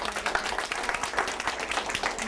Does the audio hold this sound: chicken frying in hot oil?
no